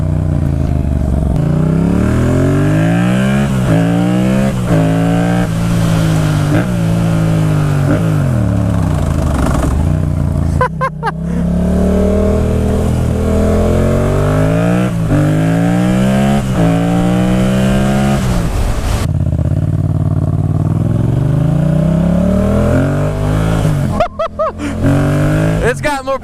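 A Yamaha FZ-07 with a new air filter and ECU flash revs hard and accelerates through repeated gear changes, the loud engine note climbing and dropping close to the mic, with a rider's voice at times over it.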